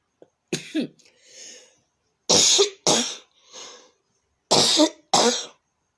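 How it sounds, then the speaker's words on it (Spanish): Several harsh coughs in short bursts, some in quick pairs, with throat-clearing rasps between them, close and loud. "a pesar de la tos que tengo"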